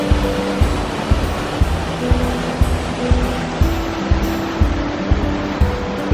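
An Icelandic waterfall on the Golden Circle gives a loud, steady roar of rushing water, heard close and continuous, with no voices over it.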